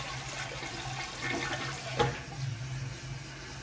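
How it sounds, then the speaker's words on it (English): Toilet flush rushing and gurgling steadily throughout, with a sharper splash near the middle, close and moderately loud, no voices. "maybe that's why, because the toilet doesn't actually flush"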